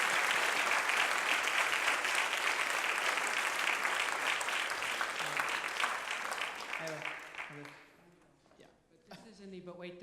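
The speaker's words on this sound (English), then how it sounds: "Let's give them a round of applause." An audience claps through a school music end-of-year concert, loud and dense at first, then fading out over the last few seconds.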